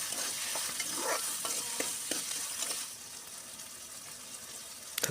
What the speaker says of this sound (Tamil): கூடவே கருவேப்பிலை போட்டு நல்லா வதக்கி விட்டுருங்க.